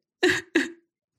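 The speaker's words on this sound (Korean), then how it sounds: "민망한 듯 헛기침을 했습니다" A person clears their throat twice in quick succession, two short, close, gruff bursts followed by silence.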